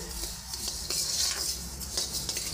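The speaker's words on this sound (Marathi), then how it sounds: "त्याला मी मंद आचेवर असं भाजून घेणार आहे।" About 100 grams of coriander seeds dry-roast in a pan over a low flame while a utensil stirs and scrapes them in a continuous, close scratchy rustle with faint clinks against the pan.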